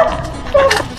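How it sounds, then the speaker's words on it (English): Pet dogs at home let out a quick, close bark and yip in a short, loud burst, with no talk over it. "These are our dogs Buttercup and Rosie."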